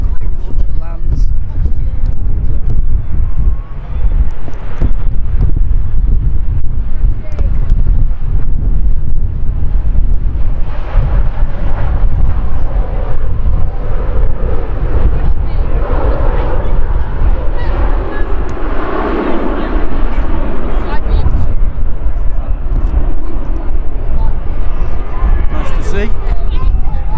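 Airbus A380 landing at Manchester Airport, heard from an outdoor visitor park as a broad, steady distant roar mixed with heavy wind buffeting on the microphone, with people talking throughout.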